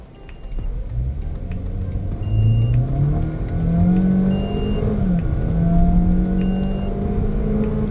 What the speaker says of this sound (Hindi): इसको मैं कंप्लीट स्टॉप पे ले आया हूँ और इसका 0 to 100 चेक करते हैं